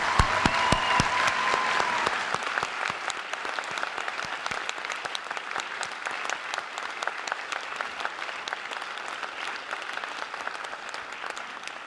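An audience at a high school senior awards ceremony applauds scholarship and award recipients. Dense, sustained clapping runs for about twelve seconds, loudest at the start and then settling to a steady, slightly thinner patter in a large hall.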